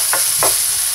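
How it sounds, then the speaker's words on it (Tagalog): Minced garlic sizzles in hot oil in a pan, a steady frying hiss broken by two short scraping stirs of a spatula, close and alone. "pag mainit na yung oil, ilagay na natin yung minced garlic. Magigisa lang tayo."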